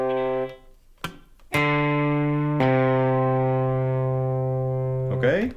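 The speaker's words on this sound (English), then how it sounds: "what we do is we play the first and we pull with the finger" Distorted electric guitar notes ring out with sustain: a note fades, then two sharp plucked attacks follow, the second held long before a quick slide or scrape at the end. It is a clear, close instrument sound with no talking.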